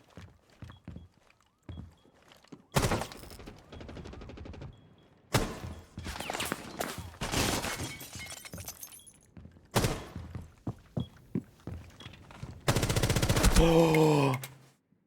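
Gunfire in Rainbow Six: sparse single shots and clicks first, then loud, close bursts of rapid automatic fire, with glass-like shattering and crashes and a final sustained volley.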